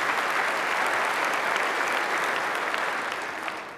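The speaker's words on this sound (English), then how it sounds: "Now you can applaud." An audience at a county government address breaks into applause, a full, even burst of clapping that holds steady and begins to thin toward the end.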